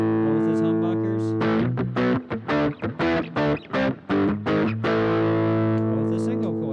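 Epiphone SG Pro 400 electric guitar with both pickups set as humbuckers, distorted: a held chord opens, followed by a burst of rhythmic chopped chords and a final sustained ring, loud and up front with no talk.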